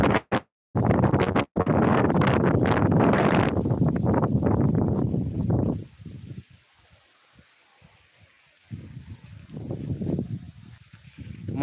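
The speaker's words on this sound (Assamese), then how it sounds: "প্ৰচণ্ড ধুমুহা।" Strong gusting wind of a severe dust storm in Guwahati roars loudly and close for the first six seconds, then drops to a quieter rushing bluster that swells again near the end.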